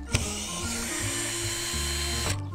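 A cordless screwdriver backs screws out of corrugated metal roofing sheet during a sauna fire, whining loudly and steadily up close with shifting motor pitch between short starts and stops.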